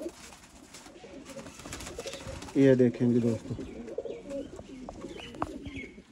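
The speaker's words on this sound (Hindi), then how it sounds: "ये कबूतर दोस्तों पिपला बेस्ड कबूतर है।" Pigeons coo in a soft, throaty burst at close range, surrounded by rustling, faint chirps and someone speaking briefly.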